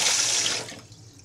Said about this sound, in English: you can hear the water in the pipes